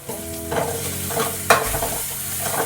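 Fenugreek leaf stir-fry frying in a pan gives close, steady sizzling with stirring scrapes and one sharper clack of a spatula, and no voices.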